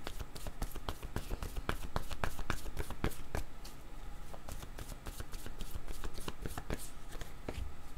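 Word cards are shuffled close by in quick, crisp riffling bursts, a dense run of papery flicks and taps that carries on steadily for about eight seconds with no voices.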